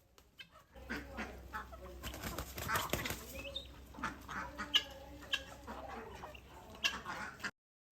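Ducks quack and clamor in a busy flock, with other fowl clucking nearby and bursts of scattered calls over a steady low hum.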